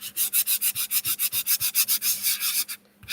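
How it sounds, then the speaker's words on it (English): Sandpaper scrubs a surface in quick, even back-and-forth strokes, about six per second, close and moderately loud, before stopping briefly. "I think a little bit of using a little bit of sandpaper is going to be better."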